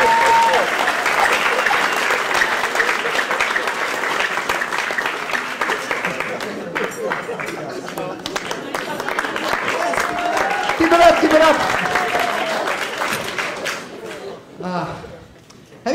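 A comedy club audience at Gotham Comedy Club in New York applauds loudly and steadily, a dense wash of clapping with some cheering that fades out near the end.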